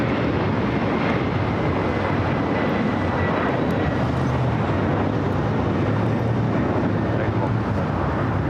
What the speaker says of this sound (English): the Dreamliner coming in from Montreal